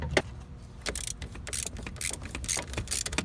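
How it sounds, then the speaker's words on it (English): Ratchet working loose the negative battery terminal on a Dodge Avenger in an engine bay, a series of quick clicking and metallic rattling bursts, close up and moderately loud with no talking. "get our ratchet back here"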